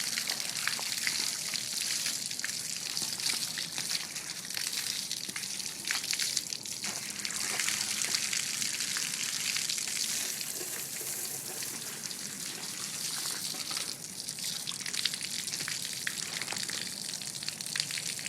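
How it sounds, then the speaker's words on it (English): Water sprays and gushes steadily through the oil galleys of a Chevy 454 engine block during its final wash before assembly, a continuous hissing rush with splattering and trickling, close and fairly loud. "Make sure we rinse everything really good."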